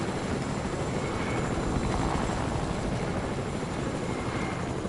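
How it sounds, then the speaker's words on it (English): A helicopter in the video game Fortnite drones steadily and loudly, its rotor and engine forming a dense, continuous roar with no talk over it. "Let's just take your helicopter, pal."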